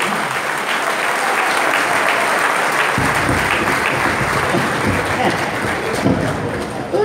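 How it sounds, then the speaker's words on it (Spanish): Loud, sustained audience applause at an International Women's Day tribute show, dense clapping filling the whole stretch with faint voices underneath. "Un aplauso para ellos."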